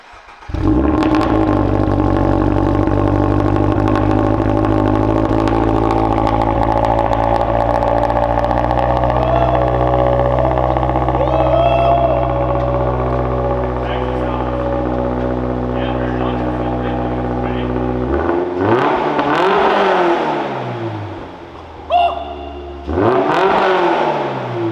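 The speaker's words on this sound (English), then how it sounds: "we're here about to react to the exhaust pipe" A 2022 Toyota GR86 fitted with an HKS exhaust idles loudly and steadily with a deep, droning tone for close to twenty seconds, then gets two sharp blips of the throttle that rise and fall near the end.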